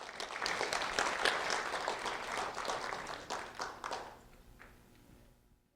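Applause from an audience at a county sheriff's office award ceremony honoring a fourth grade student, steady dense clapping for about four seconds that thins into a few scattered claps and fades out.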